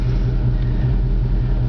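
Low, steady engine rumble from a car with an EFIE fuel-saving device fitted, heard from inside as it drives along at an even pace, with no talk.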